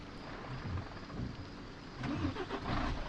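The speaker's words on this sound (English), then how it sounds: "So the engine started." A truck engine starts and idles in the video game Truck Driver on PS5. It gives a steady mid-low rumble with slight surges near the end, moderately loud and with no speech.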